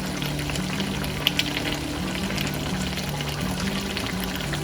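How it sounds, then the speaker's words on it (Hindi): Oil in a pot for dhaba-style chicken biryani hisses and crackles steadily as rice goes in, with a couple of brief knocks near the start and no voices. "तो इसमें तय में हमने थोड़ा सा ऑयल डालना है। अब मैं इसमें राइस डालूंगी।"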